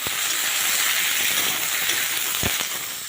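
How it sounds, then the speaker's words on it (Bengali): Green banana, carrot, pumpkin and eggplant frying in oil in a home kitchen, giving a steady, bright sizzling hiss with a couple of brief louder knocks. "এবারে দিয়ে দিচ্ছি কাঁচকলা, গাজর, একটু পরিমাণ কুমড়ো আর বেগুন সব দিয়ে এগুলোকে খুব ভালো করে ভাজবো"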